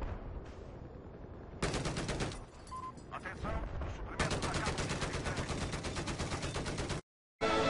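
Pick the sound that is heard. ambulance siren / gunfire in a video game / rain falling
gunfire in a video game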